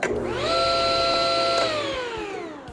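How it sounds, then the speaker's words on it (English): A SawStop table saw is switched on. Its motor spins up quickly into a loud, steady whine that holds for about a second before starting to wind down, and no one speaks over it. "Now to turn the saw on, you simply pull on this tab here."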